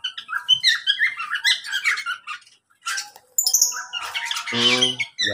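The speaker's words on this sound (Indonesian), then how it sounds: "Ini jalak Bali." Bali myna in an aviary in front of a shophouse, giving loud harsh squawks and chattering chirps close by, with brief pauses between bursts and a rough buzzing call near the end.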